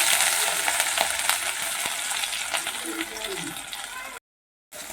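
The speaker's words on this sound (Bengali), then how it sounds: "আদাটাকে একটু ভালো করে তিরিশ সেকেন্ড আমাকে ভেজে নেব তেলে" Grated ginger frying in hot mustard oil with whole cumin seeds gives a steady, close sizzle and crackle, with a few sharp pops and light scraping near the end.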